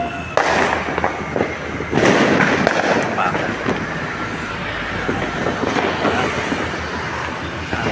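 New Year 2024 fireworks bang and crackle in a dense, continuous barrage, with loud bursts standing out near the start and around two seconds in.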